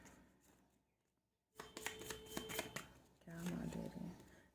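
Tarot cards are shuffled in two brisk, close rustling bursts after a brief quiet pause, with a voice talking underneath.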